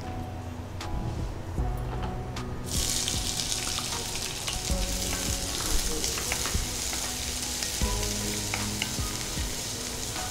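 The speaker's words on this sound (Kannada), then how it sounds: "ಈಗ ಈರುಳ್ಳಿ ಹಾಕ್ತೀನಿ." Onions frying in a pan for dry shrimp chutney give a dense, continuous sizzle, close and fairly loud, with occasional clicks of stirring and no talking.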